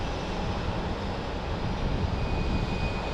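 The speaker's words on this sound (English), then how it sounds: "Bombardier Challenger 600" A Bombardier Challenger 600 private jet blows past near Portland airport, a dense, steady roar of engine noise that swells slightly toward the end, fairly close and loud throughout.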